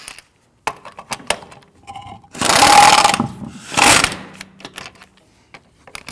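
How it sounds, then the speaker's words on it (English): Lug nuts are run down on a 2013-2019 Ford Explorer Interceptor wheel after rear lower control arm replacement: close mechanical ratcheting whirs in two longer bursts amid scattered metallic clicks and clinks, without talk. "when tightening these down, you want to make sure that you do it in a crisscross or star pattern"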